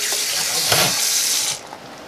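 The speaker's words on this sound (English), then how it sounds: "get some water in here" Tap water gushes into a cast iron pan in the sink, a loud steady rush that swells and then cuts off abruptly near the end.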